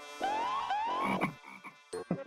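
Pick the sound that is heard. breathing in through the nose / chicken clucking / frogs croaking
frogs croaking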